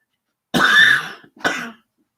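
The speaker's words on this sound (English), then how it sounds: "one of these days, I'll get rid of the cough." Two harsh, close coughs in quick succession, the first longer and louder, in an otherwise silent room.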